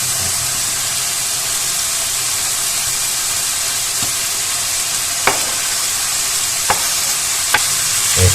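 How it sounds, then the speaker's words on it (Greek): Minced meat frying in a pan with allspice berries, a steady loud sizzle and hiss with a few sharp scrapes of stirring near the end. "θα τσιγαρίσουμε πάρα πολύ καλά στο κιμά μας"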